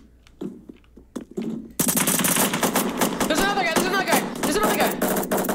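Automatic gunfire in the Roblox survival game Apocalypse Rising 2: after a few scattered single shots and knocks, a loud, sustained rapid burst of machine-gun fire starts abruptly and continues, with a player talking over it.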